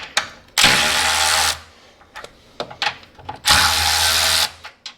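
A power tool tightens a rear subframe bolt on a classic JDM Mini. Two loud, sustained buzzing bursts of about a second each are separated by clicks and small clanks of handling.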